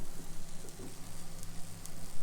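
Onions frying in a pan: a steady, close sizzle with crackling, over a low hum.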